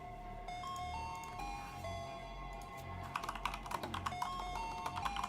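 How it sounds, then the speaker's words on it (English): Rapid clattering keystrokes on a computer keyboard start after a few seconds and continue in an uneven burst, quiet and close, over soft background music. "Sorry for the keyboard sounds."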